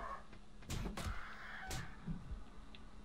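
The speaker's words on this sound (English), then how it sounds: "Now I'm infected from the stupid bird." A bird cawing in the survival game 7 Days to Die, two or three harsh quiet caws spaced over a few seconds against faint background noise, with no talk.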